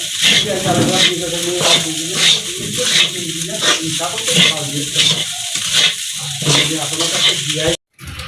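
Rice fries in a pan in a village home kitchen, with a spatula scraping and stirring in a steady rhythm over a constant sizzle. The sound is close and loud and cuts off briefly near the end.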